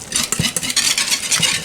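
A spoon works through thick polenta in a pot with close, rhythmic scraping strokes and soft thick squelches, repeating several times in quick succession.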